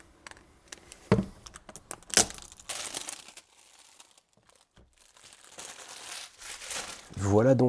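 Plastic wrapping crinkles and tears as a Get Out 4K Blu-ray edition is unwrapped indoors, in several short close rustles and crackles between quieter pauses, with someone talking at times.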